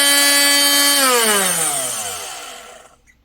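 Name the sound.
Parkside 12V cordless angle grinder running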